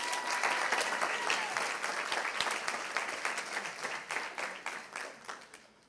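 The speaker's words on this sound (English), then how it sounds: "All right, y'all give the parents a round of applause." An audience claps steadily for the parents at a school gathering, a dense sustained round of applause that gradually thins and fades toward the end.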